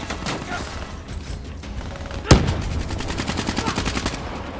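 ICR-1 assault rifle fire in the Black Ops 3 video game: one sharp loud shot stands out, followed by a fast, even stutter of rounds from a burst, set against background game noise.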